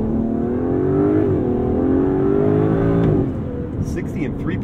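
An Aston Martin DB11 V12 launches from a brake-boosted start, its engine note climbing loud and smooth through a long rising pull before easing off, heard close from inside the car with someone speaking near the end.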